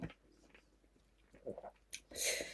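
Close, soft chewing and crunching of crispy salted pork belly cooked with bamboo shoots, a few wet bites building to a brighter crunch at the end.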